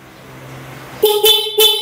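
Quiet background hum, then three loud, sharp beeps from a motorcycle's stock horn in quick succession, close and piercing.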